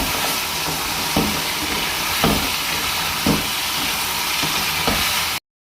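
Carrots and peas sizzle steadily in a hot pan, a loud continuous frying hiss with a few soft periodic clicks or stirs, no voices, cutting off abruptly at the end.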